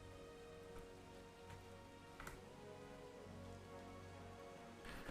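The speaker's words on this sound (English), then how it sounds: "yep, it's raining inside" In a video game, rain falls indoors through a broken roof, a soft, constant patter of drops with a few faint knocks, quiet and even throughout.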